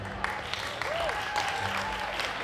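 An audience at a strawberry festival music show claps and whoops in steady applause, with a whistle-like tone over the crowd noise.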